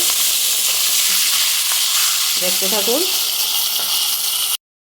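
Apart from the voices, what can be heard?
fish head frying in mustard oil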